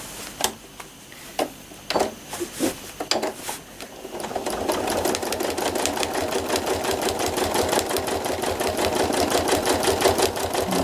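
A sewing machine stitches trapunto flowers, opening with a few short separate bursts before settling into one loud, fast, continuous run of rapid needle strokes, close up and alone.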